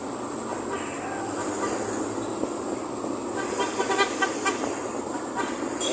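An LRT train rumbles past steadily nearby, with rail clatter and a broad whooshing roar, and a faint rhythmic clanking toward the end.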